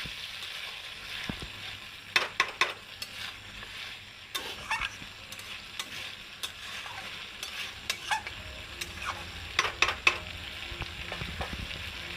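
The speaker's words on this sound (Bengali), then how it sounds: "অল্প একটু জল দিয়ে এটাকে নেড়ে চেড়ে আবার সুন্দর করে কষিয়ে নেব" Katla fish curry with potatoes being stirred and fried in a pan with a splash of water, a steady sizzle under intermittent scraping strokes of a spoon against the pan.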